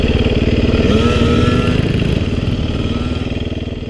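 A small Honda 50 dirt bike engine buzzes steadily on a trail ride, a loud close putter that holds even and then eases slightly.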